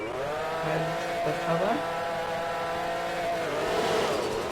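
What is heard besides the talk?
supercar driving in the video game Taxi Boss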